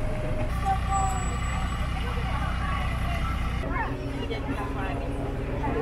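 A tractor engine rumbles steadily while driving on a farm road toward a strawberry patch, a continuous low drone throughout, with people talking over it.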